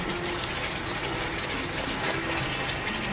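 Kewra water splashing into suji halwa cooking in ghee, a dense, continuous rushing hiss that stays loud and even throughout.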